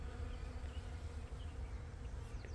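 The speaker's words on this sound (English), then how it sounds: "There was a big bumblebee over there." Steady buzzing of bees, including bumblebees, flying around flowers on a farm, close and continuous with a faint outdoor background and no talk.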